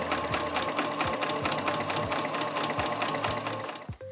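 A sewing machine stitches along the edge of a fabric scrap for a small trunk-style key case. It runs with a steady, rapid mechanical rhythm, close and continuous, then winds down and stops just before the end.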